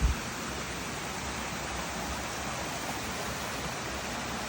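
A jungle waterfall gives a steady, dense rush of falling water, a constant broadband roar without pauses.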